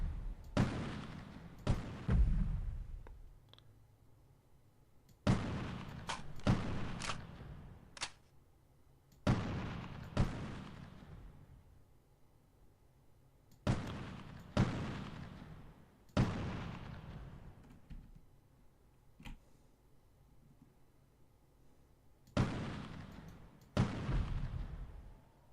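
Sharp, isolated sniper rifle shots from the 1998 Delta Force game, about a dozen spaced cracks each trailing a long echoing decay, some in close pairs, fairly loud against a quiet background.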